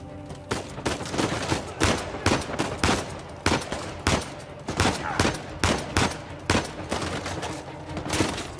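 Repeated gunfire in Uncharted 4: A Thief's End on PS4, a steady run of sharp bursts and single shots about every half second, loud and close, with no talk over it.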